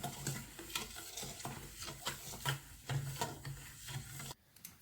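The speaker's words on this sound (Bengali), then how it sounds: "ভালো করে আমি এবারে মেশাবো।" A spoon stirs a sugar and salt mixture in a bowl, quiet close scraping and grainy rasping strokes in an irregular rhythm, ending abruptly.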